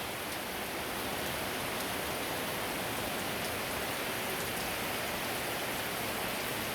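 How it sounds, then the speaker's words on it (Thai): Out-of-season rain falls steadily in front of a house, a dense, even wash of hiss that holds at the same level throughout without breaks, and no voices are present. "ฝนอันนี้ก็เป็นฝนหลงฤดูแล้วนะ"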